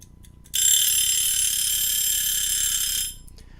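A spring-driven mechanical astronomy tracking mount reaches its zero position and rings a bright, sustained bell for about two and a half seconds before stopping, loud and close, with a quiet background before and after.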